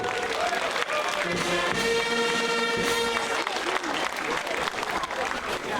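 Sustained applause from a large audience at the Steyl carnival song matinee, steady clapping filling the room for several seconds with a few faint tonal notes underneath.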